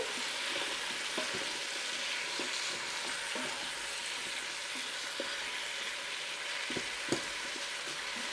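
Onions sautéing in a pressure cooker, a steady close-up sizzle with occasional scraping stirs and light clicks of a utensil against the pot.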